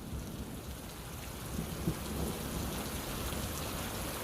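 Heavy rain falls steadily in a Bangla horror cartoon storm scene, with a low rumble of thunder rolling in partway through. There are no voices.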